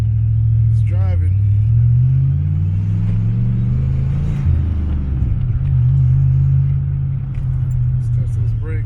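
A dual-supercharged Foxbody Ford Mustang's engine hums and rumbles steadily from inside the car as it drives, with someone talking over the low drone.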